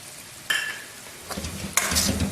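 Chicken karahi with green chillies frying in a pan, a steady sizzle with sharp stirring scrapes near 0.5 and 1.8 seconds, close and moderately loud, no talking.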